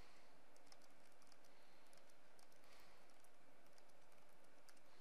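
Typing a file name on a computer keyboard, a quiet, steady patter of light key taps running throughout at low level with no voices.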